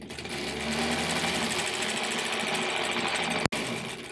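A 1938 Kenmore model 38 sewing machine stitching, a loud, fast, continuous mechanical whirring hum with a rapid needle rhythm that runs steadily, then stops abruptly with a sharp clunk near the end.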